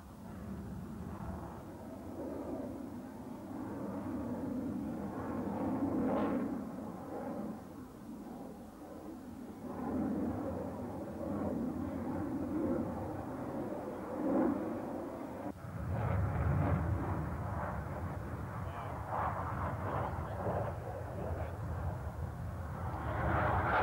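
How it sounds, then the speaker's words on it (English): A MiG-29 fighter jet flies a demonstration at the 1989 Paris Air Show, its distant jet roar swelling and fading in long waves, with a louder rushing surge in the later half. "flown by Roman Toskayev, resumed the daily flight demonstrations of the MiG-29."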